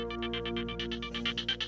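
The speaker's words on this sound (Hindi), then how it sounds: "आपका फोन बज रहा है।" A phone ringtone chirps in rapid repeated pulses, loud and close, with a steady tonal melody underneath and no speech.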